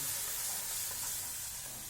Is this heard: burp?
no